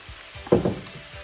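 Onion and grated carrot dropped into hot sunflower oil over mushrooms give a brief burst of close sizzling and frying, swelling for a moment before fading back to a low background hiss.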